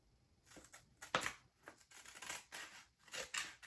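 Scissors snip through a paper toddler long-sleeve shirt pattern in a series of short, crisp cuts with brief pauses between them, close up and fairly quiet.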